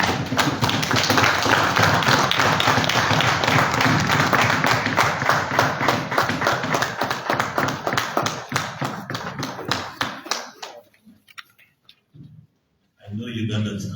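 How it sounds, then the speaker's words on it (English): Parliamentary audience in Uganda's Parliament clapping for newly sworn-in shadow cabinet members: dense, loud applause holds steady for about ten seconds, then thins into scattered claps and fades into quiet. "I know Ugandans can be conservative, but I think you can clap better than that."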